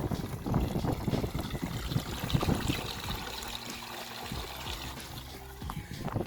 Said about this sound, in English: While I'm fetching water, just transferring it to these containers like this.